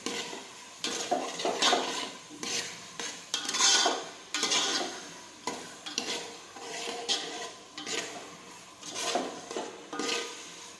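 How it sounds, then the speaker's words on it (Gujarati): Tomatoes sautéing in a pan for pav bhaji bhaji, stirred with a spoon in repeated rhythmic scraping sweeps against the metal, close and clear with a faint sizzle beneath and no talking. "હવે આપણે તેમાં ટમેટા નાખી દઈશું. એને પણ સાતળી લઈશું આ રીતે."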